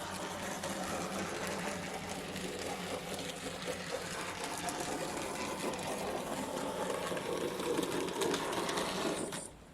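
Model LSWR 302 class locomotive running on a 9-volt battery: a steady, busy motor whir with faint rattling and rail noise, close and continuous, ending abruptly, with no talk.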